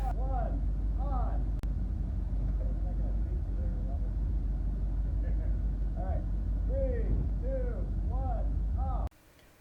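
Several cars with pop-up headlights idle together, a steady low engine drone running throughout with a few brief higher tones over it, then cutting off near the end.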